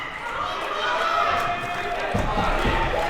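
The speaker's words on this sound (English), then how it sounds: "as you hear, the crowd is getting involved now" A crowd at an indoor men's college basketball game, Queensborough vs. Bronx CC, roars and cheers continuously during a 24-5 run, with rising noise and some thumps near the end.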